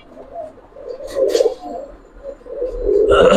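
Giribaz pigeons cooing at a Bengali pigeon market, several low throaty coos rising and falling close by, ending in a louder rush of cooing and a brief flutter.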